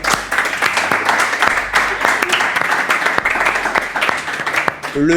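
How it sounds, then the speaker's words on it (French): A crowd applauds steadily and loudly for several seconds, with a few voices and cheers mixed into the clapping. "Oui, non, mais si, on peut applaudir."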